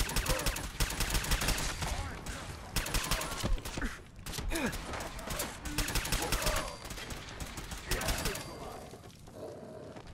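Rapid bursts of gunfire from the player's gun in the video game Fallout 4, loud and near, repeating in quick clusters across the whole stretch with a voice talking briefly between shots.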